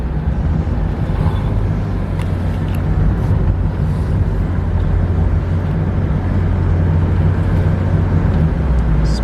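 A BMW E36 convertible, saved from the scrapyard, driving along with a loud, steady engine drone and road rumble throughout, no one speaking.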